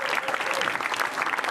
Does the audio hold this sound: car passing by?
no